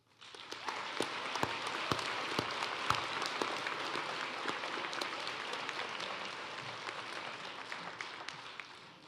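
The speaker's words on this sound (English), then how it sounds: "Please help me give a round of applause to the people behind the scenes" Audience at the 2026 Ferguson High School graduation ceremony applauds with dense, sustained clapping that holds steady for the whole stretch, crowd-wide and even in loudness.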